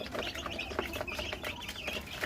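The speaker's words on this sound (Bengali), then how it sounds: "এগুলো হচ্ছে পাহাড়ি দেশি মুরগির বাচ্চা" Eighteen-day-old hill native chicks kept in a cage on a farm, peeping in a steady stream of thin, high chirps close by, with no talking.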